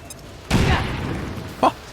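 A single heavy grenade blast in XCOM 2 bursts out loud and close, followed by a fading rumbling tail, with a brief sharper pop near the end.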